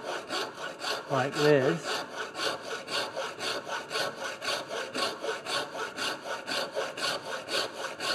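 Hand saw cutting through wood for a joiner's mallet, steady back-and-forth strokes about twice a second, close and clear, with a brief spoken remark early on.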